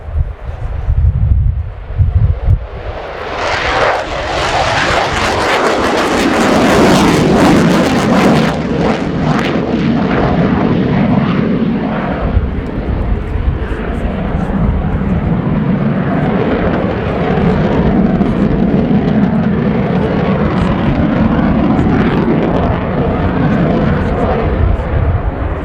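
A Swiss Air Force F/A-18C Hornet fighter jet performs an air show flying display, its loud engine roar swelling in as it passes close, then a sustained rumbling jet noise with wind buffeting the microphone.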